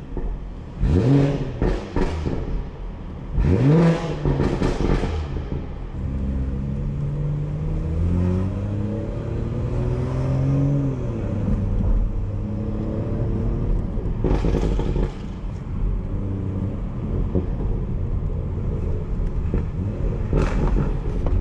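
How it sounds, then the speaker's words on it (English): A 2018 BMW 440i xDrive revs repeatedly on a New York City street, with sharp rising bursts of engine roar over a lower, steady idle rumble between them. "A little rev for y'all."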